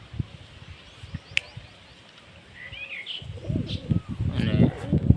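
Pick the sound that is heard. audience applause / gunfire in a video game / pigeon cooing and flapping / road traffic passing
pigeon cooing and flapping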